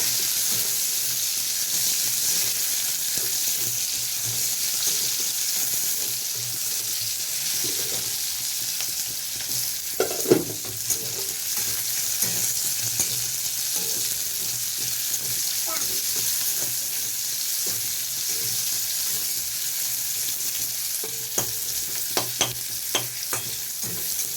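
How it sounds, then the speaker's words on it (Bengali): Onions and dried red chili fry in oil for a bottle gourd and prawn dish, making a continuous even sizzle close up with occasional spatula scrapes and clinks; no voices are heard. "একটু শুকনো লঙ্কা ফোড়ন দিলাম, দিয়ে পেঁয়াজ দিয়ে দিয়েছি। একটু পেঁয়াজটা হালকা ভেজে নেব।"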